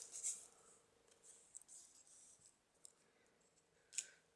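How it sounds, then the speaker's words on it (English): Small scissors snipping a green piece off a paper craft project, a few faint, crisp cuts spaced out in a quiet room, with light paper rustling between them. "See if we can cut that green piece off."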